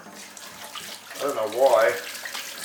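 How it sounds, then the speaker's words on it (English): Tap water runs over hands as bacon fat is washed off at a kitchen sink while cooking a sausage and potato casserole. A steady splashing flow swells in the middle, and a voice speaks briefly over it. "wash the bacon fat off my hands a bit"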